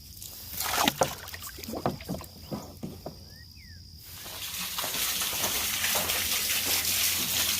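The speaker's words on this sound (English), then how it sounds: "let's go put the water hose in the water trough" Water from a hose splashes into a livestock water trough outdoors on a farm, starting with scattered sloshing bursts and then settling into a continuous soft rushing pour, heard close and fairly quiet.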